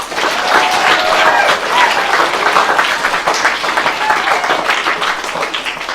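A school audience applauds Year 5 finalists at a speech competition, loud, dense clapping sustained throughout with crowd noise and a few voices mixed in.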